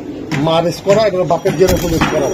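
Racing pigeon squabs cooing at a farm, with soft low coos repeating in short bursts close by while someone talks over them.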